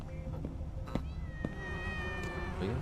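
A cat in the video game Tales of the Neon Sea gives several short, close meows in a row over a soft, steady game background, with no talk.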